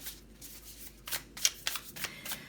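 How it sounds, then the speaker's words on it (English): A deck of tarot cards being shuffled at close range, with a few soft riffling bursts and sharper flicks of card edges spread over a couple of seconds, quiet and with no talking. "Let's get a couple more cards out from the deck."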